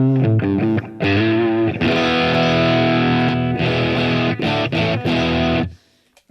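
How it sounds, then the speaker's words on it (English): An electric guitar played through a distortion patch with a little delay on a Mooer GE300 multi-effects unit: loud, saturated chords and single notes ring out, ending with a short trailing decay. "I do have a distortion I can punch in, and it has a little delay"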